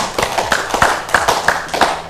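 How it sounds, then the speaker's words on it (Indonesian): A few people clapping their hands close by in an Indonesian talk-show setting, a short run of evenly spaced, sharp claps in a steady rhythm. "Tepuk tangan semua."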